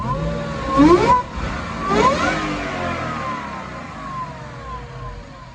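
A 2017 Mustang GT V8 with a Gen 5 Whipple supercharger and manual transmission revs up sharply twice in quick succession, then settles into a whining idle that slowly fades.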